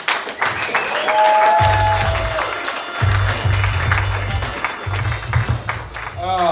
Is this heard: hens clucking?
no